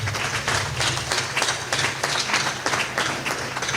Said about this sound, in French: Applaudissez pour vous-même.